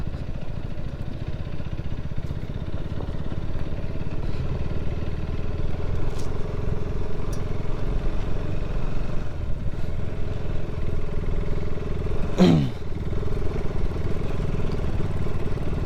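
A KTM 250 Adventure motorcycle engine hums steadily throughout while riding, a low mid-pitched drone with occasional clatter and a brief rising whine near the end.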